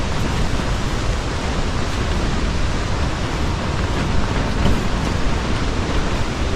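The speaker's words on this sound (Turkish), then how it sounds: "Rüzgarlı fırtına." A stormy wind roars at a tent camp beside a stream, a dense, loud, continuous broadband rush with no pauses, and no voices over it.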